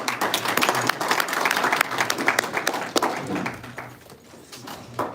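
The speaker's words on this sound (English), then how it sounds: "Let's give him a round of applause." Audience applause at a live event in Namibia, a dense wash of many hands clapping steadily for about four seconds, then thinning and fading toward the end, with no talk over it.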